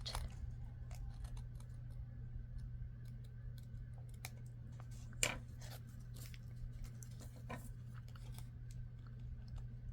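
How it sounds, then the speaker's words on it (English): Scissors trim a paper file folder insert with a few faint, quick snips over a low steady hum, plus one sharper cut midway. "Maybe I can trim that a little bit. Trim to fit, how's that?"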